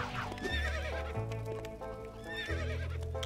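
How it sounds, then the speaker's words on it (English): A stallion in a LEGO video game neighs with a loud, drawn-out whinny, followed by a few shorter snorting calls, heard alone. "Keep away from that stallion."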